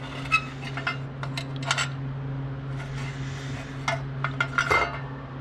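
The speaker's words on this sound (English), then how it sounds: "So here we go, valley pan going in." An aluminum valley pan is set onto an Oldsmobile engine block, giving light metallic clinks and taps over a steady background hum.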